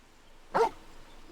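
A companion dog in a video game gives one short, sharp bark, clear and close, with quiet game ambience before and after and no talking.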